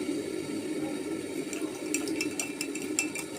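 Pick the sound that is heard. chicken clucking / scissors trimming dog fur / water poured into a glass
water poured into a glass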